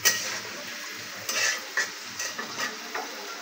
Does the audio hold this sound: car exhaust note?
no